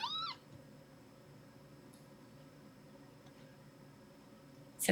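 Newborn kittens from a cat's fresh litter meow in high, thin cries, one cluster at the very start and another at the end, close by, with quiet room hush between them.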